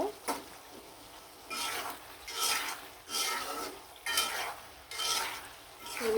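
A spatula works through rohu fish curry with flat beans braising over high heat: rhythmic scraping strokes about once a second over a low simmering sizzle, close up with no talking.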